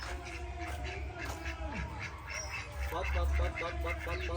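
Ducks quack repeatedly in a noisy outdoor rural setting, their calls layered over steady low rumble and background voices, moderately close and fairly loud.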